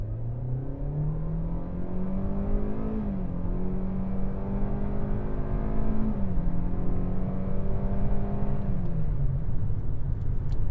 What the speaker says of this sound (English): Now I have it in sport mode. We'll do a quick little acceleration test.